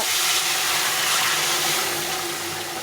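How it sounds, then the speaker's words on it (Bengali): Boiling water poured into a simmering curry of potato and pointed gourd makes a steady, close rushing splash that fades slightly toward the end. "এখন আমি এখানে জল ফুটিয়ে রেখেছিলাম এই ফুটনো জলটা দিয়ে দেবো"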